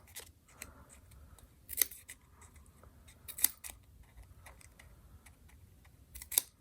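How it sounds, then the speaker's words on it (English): Scissors snip through paper while tear-and-tape is trimmed for a Color Your World craft project, a few sharp cuts spaced a couple of seconds apart over faint background ticking and rustle, close by with no talk. "just cutting up the bottom that has the tear and tape up to the middle score line"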